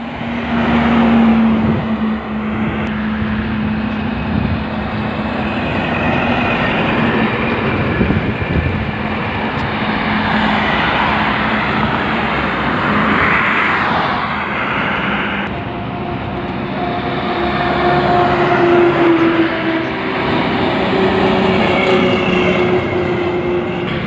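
Heavy Tata truck engines drone and roar as they overtake one another on the road in a truck driving game, a loud sustained mechanical rumble with shifting whines, rising and falling over time.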